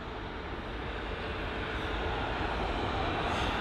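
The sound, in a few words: Airlink Airbus A320neo taxiing at London Heathrow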